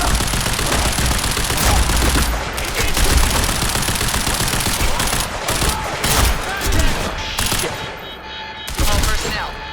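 Dense, rapid gunfire in the Quantum Break video game as an R&D facility garage erupts in a firefight, loud overlapping bursts and single shots crackling almost continuously with brief lulls.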